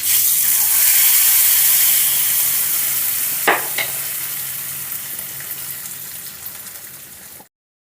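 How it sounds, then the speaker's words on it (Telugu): Hot tempering poured into tomato peanut chutney sets off a steady, close sizzle and crackle that fades slowly, with a couple of sharper spits midway before it cuts off. "పోపుని చట్నీలో వేసేసుకుందాం."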